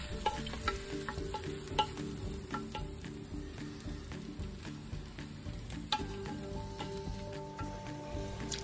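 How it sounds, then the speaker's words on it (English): Turkey and onion mixture spooned into a crock pot for pumpkin chili, heard as steady scraping, stirring and faint sizzling with irregular clinks throughout, close and moderately quiet with no talking. "Then take your turkey and onion mixture and add it to your crock pot."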